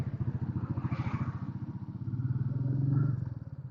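A Royal Enfield Meteor 350 single-cylinder motorcycle pulls away in first gear with a steady, thumping exhaust beat, close and even, rising slightly in load before easing.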